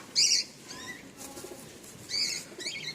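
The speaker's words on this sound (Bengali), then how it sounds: "খুব ছটপটে পায়রা দেখুন" A restless pigeon flaps its wings in two short, loud flurries, the first near the start and the second later, separated by quieter rustling and shuffling.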